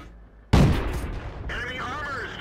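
A single loud, close tank gun blast from the stock T1 Cunningham, a Tier 1 American tank in World of Tanks, booming out sharply and then decaying under continuous game noise.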